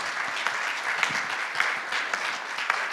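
Steady applause from the audience at a 2023 press conference for the La Gacilly photo festival, dense and sustained clapping throughout with a few sharper individual claps standing out.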